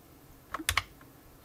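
A few clicky keypresses on the function keys of a Brother WP-1 word processor keyboard, close and fairly quiet, forming a short uneven burst with no talking.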